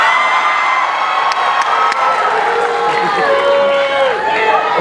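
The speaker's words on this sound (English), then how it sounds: "Oh, somebody's booing me" A large audience at the Knott's Scary Farm Halloween Haunt show boos loudly, drawn-out vocal tones rising over a dense roar of crowd voices and scattered shouts.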